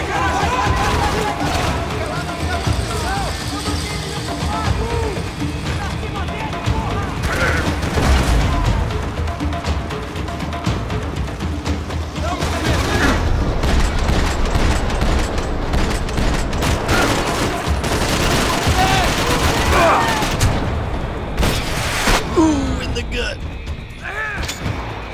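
Gunfire in the Max Payne 3 video game, a dense, continuous stretch of shots and booms mixed with game noise, loud and steady throughout, with no clear talking.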